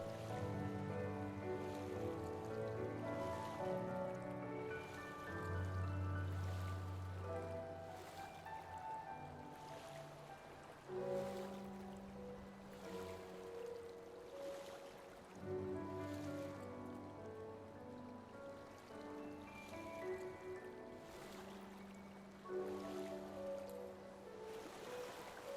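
Water churns and splashes steadily as a character swims across the ocean in a samurai video game, with rhythmic stroke surges recurring every few seconds beneath continuous background music.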